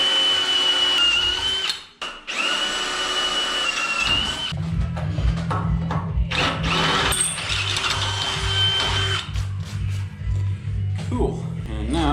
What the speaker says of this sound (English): I'm gonna have to drill the top and the bottom.